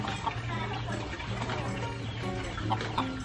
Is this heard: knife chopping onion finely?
no